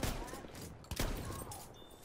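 Gunfire in the Battlefield 1 first-person shooter heard as a dense, continuous stream of battle noise with a sharp shot near the middle, fairly quiet overall.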